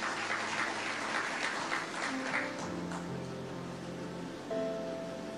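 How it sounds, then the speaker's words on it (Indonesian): Applause from a church congregation at a worship service, a steady crowd clapping that fills the room and then fades as music starts underneath. "Tepuk tangan buat Tuhan Yesus."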